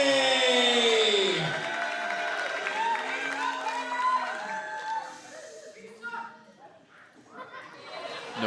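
Rowdy wrestling show crowd that keeps chattering and cheering instead of falling quiet, a dense murmur of many voices with a ring announcer's amplified voice over it.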